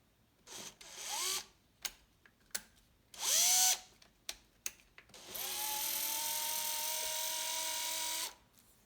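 A power drill bores pickguard screw holes into a painted ST-style guitar kit body: several short whirring bursts and stops, then one longer sustained run of the motor before it winds down, close and clear.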